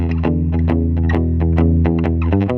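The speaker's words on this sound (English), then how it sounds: "Add a little reverb." An electric guitar played through a pedalboard with spring reverb added sounds a quick run of bright plucked notes in a shuffle rhythm, loud and close, each note ringing with a lingering wash.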